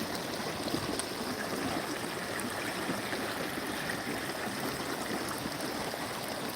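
Water flows steadily in a stream fed by an overflowing lake, a constant rushing and trickling wash with no other sounds standing out.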